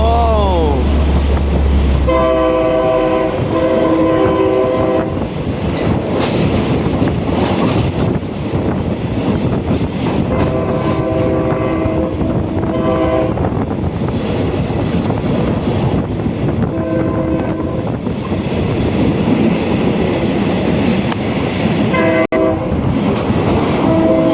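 A train on the Mahachai line runs loud and close with a steady rumble and wheel clatter while its horn sounds in several repeated blasts throughout.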